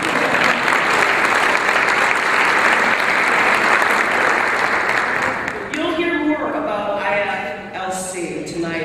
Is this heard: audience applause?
yes